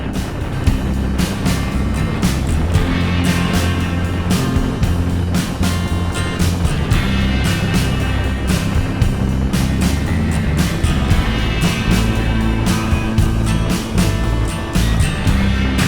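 Strong wind of about 40 to 50 mph roars across an open outdoor spot in South Dakota, buffeting the microphone with constant heavy rumble and sharp gusting bursts.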